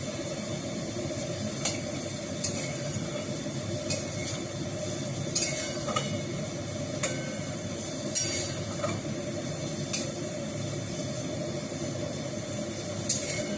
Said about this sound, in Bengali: জলটাকে হালকা আমি গরম করেছিলাম, তো এই জলটা আমি এবার দিয়ে দেবো।